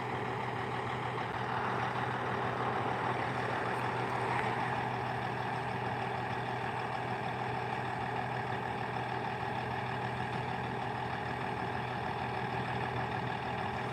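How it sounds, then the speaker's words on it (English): A truck pulls away from a roadside traffic stop where a patrol car sits with lights on, its low engine rumble steady and moderately distant, with no voices over it. "Now there goes the truck"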